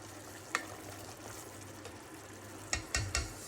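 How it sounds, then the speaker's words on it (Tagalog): Water heating in a pot for sardine misua soup, a soft continuous bubbling and hiss with a few brief clinks and knocks near the end. "So, yung narinig niyo guys, nagpabukal kong tubig kay mao atong isabaw diri."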